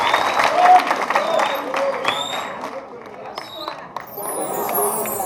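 An audience at a special Women's Day show applauds, a busy mix of clapping and crowd chatter that rises and falls while voices carry through it.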